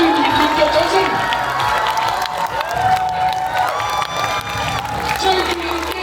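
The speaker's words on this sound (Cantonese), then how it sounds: "而家請你哋用你哋最熱烈嘅掌聲，" A crowd of parents and children at a kindergarten event cheering and clapping, a dense, loud wash of voices with shouts and applause throughout.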